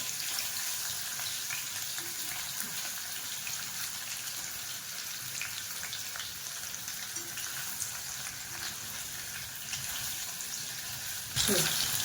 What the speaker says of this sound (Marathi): पनीर चांगलं असं तांबूस रंगावरती भाजून घ्यायचंय.